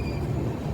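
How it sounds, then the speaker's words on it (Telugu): Nagawali Express rolling in at platform one of Hazur Sahib Nanded station: a steady low rumble of rail wheels and carriages, close and continuous, with no voices. "1వ నెంబర్ ప్లాట్ఫామ్కి వచ్చిందండి మన బండి"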